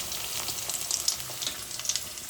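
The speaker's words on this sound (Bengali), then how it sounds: "এবার একে একে মাছ ছেড়ে দেবো" Fish pieces frying in hot oil with turmeric make a continuous near sizzle dotted with small pops and crackles, with no talking over it.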